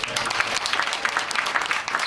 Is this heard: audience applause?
yes